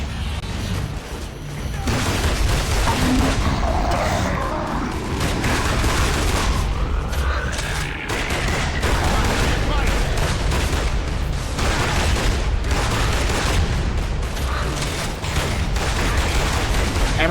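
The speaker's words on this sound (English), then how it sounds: "Hammerburst sounds much different too now" Sustained rapid bursts of Hammerburst rifle fire in Gears of War: Judgment, loud and dense throughout amid explosions and battle noise, with occasional voices beneath.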